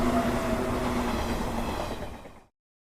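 A train rolls along the rails with a steady, dense rumble and rattling that holds fairly loud before fading out and stopping abruptly, with no voices.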